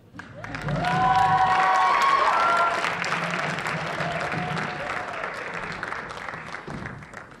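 An audience at a high school poetry event applauds and cheers for a band, a loud sustained wave of clapping with whoops that swells early and holds steady throughout.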